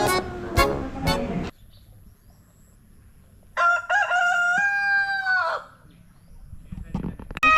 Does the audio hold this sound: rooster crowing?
yes